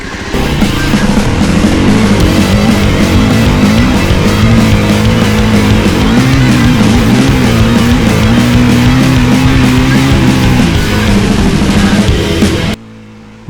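A Yamaha WR450 dirt bike engine roars continuously under heavy load while climbing a steep off-road track, loud and close, with pitch rising and falling, then cutting off abruptly near the end.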